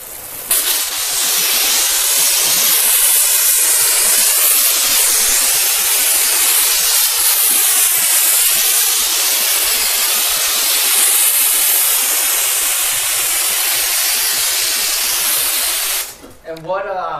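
Loki pre-soak sprayed from a pressurized foaming detail keg onto a car, one long loud continuous hiss that cuts off abruptly near the end.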